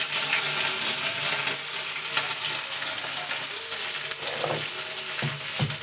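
Onions, added after bay leaf and whole dried red chillies, fry in hot oil with a loud, continuous sizzle and occasional stirring scrapes, with no talking.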